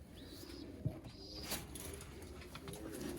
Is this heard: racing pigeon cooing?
yes